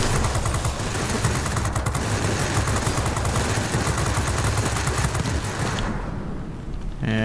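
Rapid, continuous machine-gun fire from a fighter plane in World of Warplanes, a dense rattling stream that runs loud for several seconds and then briefly drops away before one last burst.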